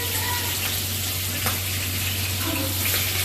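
Fish frying in hot oil in a pan sizzles with a steady crackling hiss, close and constant, over a low background hum.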